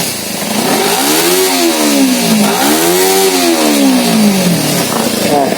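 A Kawasaki Z250 motorcycle with a rough-running fault, black exhaust smoke, heavy fuel use and an unstable idle, revs up and down twice in a loud, close engine drone whose pitch rises and falls.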